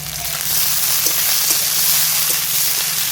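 Chopped onion and whole garlic cloves fry in hot oil, giving a steady, close, dense sizzle with faint stirring clicks and no voices.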